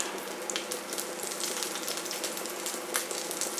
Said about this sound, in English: You can hear them just starting to crisp up now.